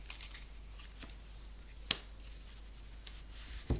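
Tarot cards handled and laid onto a pile during a reading, soft close slaps and shuffling flicks with a few sharper snaps over a constant low hum.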